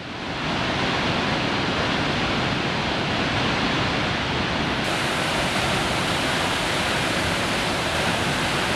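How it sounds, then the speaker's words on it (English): Flash flood water rushing through Glen Canyon, a loud, dense, unbroken roar of turbulent water that holds steady from start to finish with no voices. "When flash floods arrive at a canyon system like Glen Canyon, the water moves in like it's got somewhere to be."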